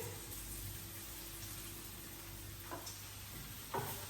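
Mushrooms sautéing in oil in a frying pan give a soft, steady sizzle, with a few faint clinks of stirring near the end.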